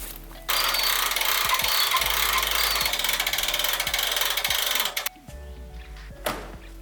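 A hand winch ratchets steadily as it drags an abandoned Holden VP Commodore that sat for six years, a loud rapid clicking run lasting several seconds before stopping abruptly, followed by faint knocks.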